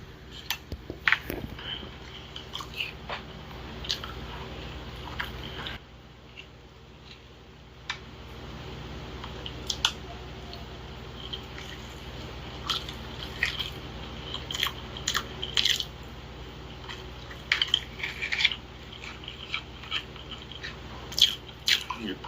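Close, intimate chewing and biting of Spam, with soft crunchy bites and occasional light clicks of cutlery against a dish, repeating irregularly over a quiet room hum with no talking.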